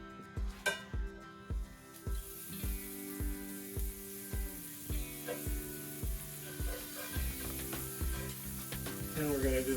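Butter sizzling in a frying pan while French toast cooks, a steady soft hiss with regular low thumps and clinks from the kitchen and background music running under it.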